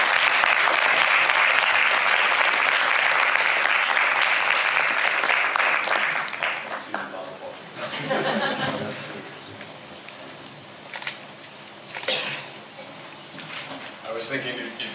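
An audience at a lecture welcomes a speaker with loud, sustained applause that fades after several seconds into scattered claps, shuffling and murmurs.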